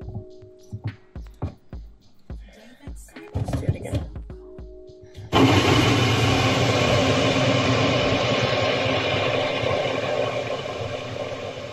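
A kitchen blender with a lid that had come off starts up loud and close, a steady dense whir running without a break after several seconds of knocks and handling.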